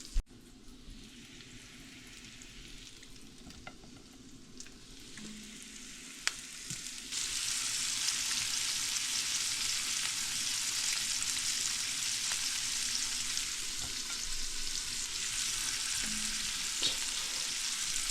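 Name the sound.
panfish fillets frying in a pan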